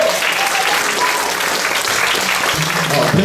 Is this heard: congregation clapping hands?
yes